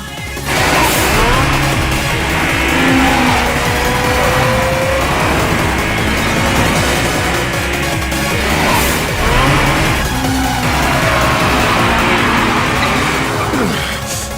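A Nissan GT-R drifts hard with tires squealing over a loud, continuous engine roar that holds steady for the whole stretch, rising and falling slightly in pitch.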